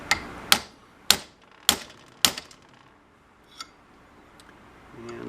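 Sharp tapping clicks from a small tool working a bushing out of a part on a 1967 Mustang S Code Convertible: four evenly spaced loud clacks, then a couple of fainter ticks and quiet, with no talk.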